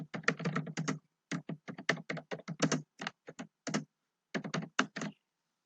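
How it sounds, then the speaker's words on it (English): Close, crisp keystrokes on a computer keyboard, typed in quick bursts with a few short pauses, alone and without speech. "Now here I will type where should I go?"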